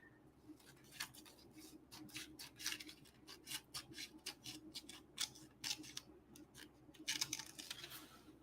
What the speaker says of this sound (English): now I'm going to take this strip and I'm going to cut this